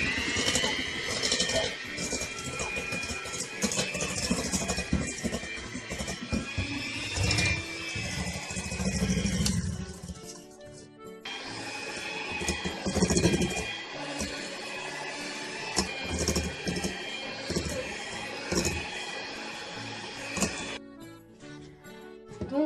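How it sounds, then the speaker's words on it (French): An electric hand mixer beats cake batter in a home kitchen, giving a continuous whirring, rattling mechanical drone with brief pauses, while someone speaks French over it. "Ensuite, nous prenons le batteur pour mélanger."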